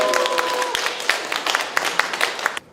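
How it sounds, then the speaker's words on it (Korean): An audience at a book concert for an author's talk gives a short burst of scattered applause that thins into individual claps before stopping. A voice is heard briefly at the start. "박수 많이 주세요."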